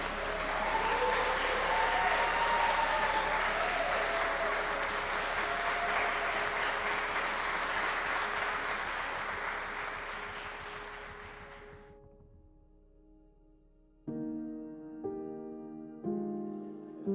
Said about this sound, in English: Would you like to give the new husband and wife a nice round of applause?